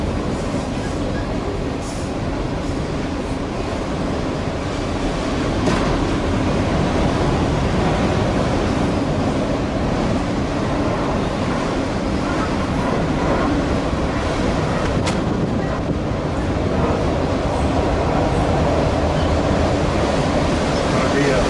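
A long freight train rolls past, a continuous heavy rumble and clatter of wagons holding steady and close for over twenty seconds.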